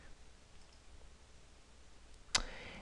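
A single sharp, close computer mouse click sounds near the end while drawing with the freehand tool in SketchUp, after a quiet stretch of faint room noise.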